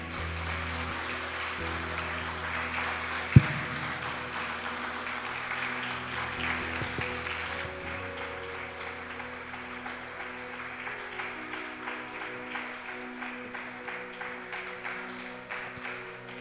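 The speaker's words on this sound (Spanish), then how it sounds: "Podemos levantar un fuerte aplauso en esto de Dios." Congregation applause during a Sunday church service: steady, moderately loud clapping lasting throughout, blended with sustained instrumental tones underneath and a single sharp knock early on.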